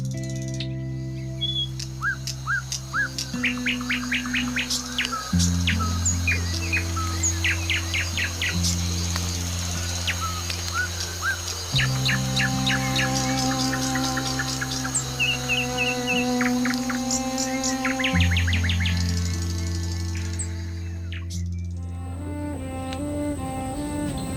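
Varied birdsong of chirps and trills over a dense bed of insect chatter, with low droning tones running continuously underneath, heard on a kayaking trip in Indonesia.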